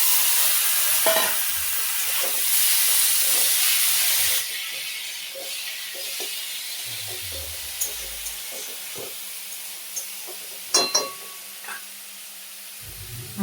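Leafy greens fry in a pan with turmeric, sizzling loudly at first and then settling to a softer hiss broken by scattered clicks and scrapes of stirring.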